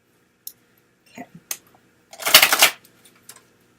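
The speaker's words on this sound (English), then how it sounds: "I hate the sound of people shuffling." A quick riffle of cards followed by a louder, rapid burst of shuffling, with a few scattered light clicks before and after.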